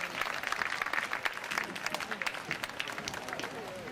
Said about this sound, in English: How about a round of applause for our guest trainer,